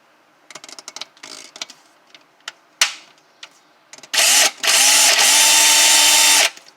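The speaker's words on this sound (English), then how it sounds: "So now we're gonna do our little drill." Short bursts of a power drill whir on and off, then a sustained loud drilling run into a wooden entertainment center lasts about two seconds before stopping.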